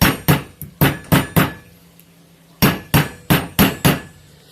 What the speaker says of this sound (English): we want to nail it down from both sides